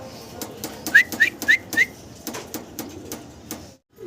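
A male Danish pigeon coos in a short series of soft, rhythmic calls, close by, over light background noise, with no talking.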